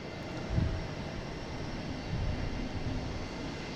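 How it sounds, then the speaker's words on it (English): An American Airlines Embraer E175 jet arriving at Boston Logan International Airport, a broad, faint engine roar that swells slightly, heard at a distance against steady background noise. "have American Airlines coming in next. From Syracuse, the E175"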